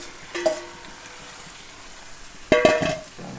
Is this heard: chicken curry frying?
yes